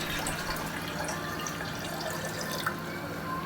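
Boiled and cooled water pours steadily into a container for gooseberry pickle, a constant close-up splashing trickle with faint drips and no speech.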